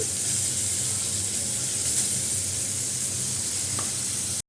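Potatoes hit hot oil in a frying pan and sizzle steadily, a close, continuous hiss with faint stirring.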